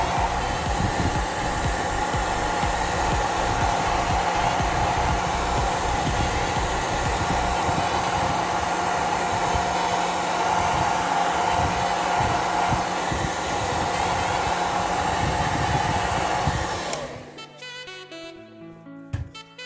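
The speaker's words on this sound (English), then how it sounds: "using the hairdryer to cure this and get best effect" A hair dryer blows steadily at close range with a constant whirring hum, then switches off near the end.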